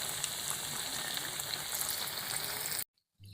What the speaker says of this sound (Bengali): অল্প আঁচে লাল লাল করে অনেক সময় ধরে ভেজে নিতে হবে।